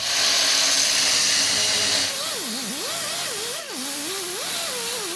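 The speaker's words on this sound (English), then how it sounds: "We can take my saw and just cut right at the edge" A power saw cutting a slot in metal for a 1966 Ford Bronco tire carrier: a loud, continuous high whine that dips and rises in pitch as the blade bites and eases through the steel.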